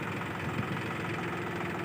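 A tractor engine hitched to a rotavator drones with a steady low rumble and faint knocking, moderately quiet and unbroken.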